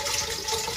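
Steady rushing water pours continuously from a municipal drinking water pipe in Mumbai, a broad hiss close by with no voices.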